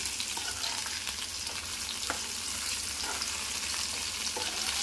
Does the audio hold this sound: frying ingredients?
yes